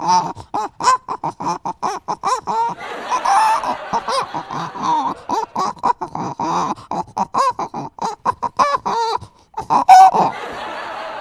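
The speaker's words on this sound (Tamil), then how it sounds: "முதல்ல கோழி பாடுது பாருங்க." Chickens cluck in a quick, rhythmic run of short, bright calls arranged like a song, many evenly spaced bursts with brief gaps, fairly loud and close throughout.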